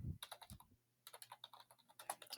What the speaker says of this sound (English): apologize for my terrible typing